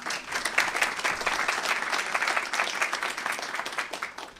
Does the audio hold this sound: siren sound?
no